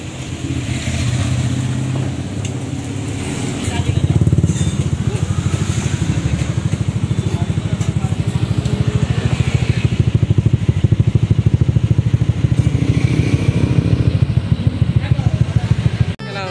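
A Honda Click125 scooter runs with its silencer removed, giving a loud, raspy, pulsing exhaust drone that steps up in level partway through and holds steady. Voices talk over it now and then.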